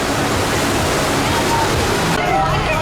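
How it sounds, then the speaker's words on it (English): Water rushes down cruise ship water slides in a steady, loud, wide wash of noise, heard close and continuous, with a voice talking over it. "in the back of the boat is where you'll find the water slides on board the ship"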